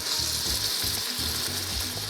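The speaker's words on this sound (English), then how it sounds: "See, that's what we wanna hear. That sizzle means flavor." Ground beef sizzles and crackles steadily in a hot skillet for picadillo, with soft rhythmic scraping as it is stirred close by.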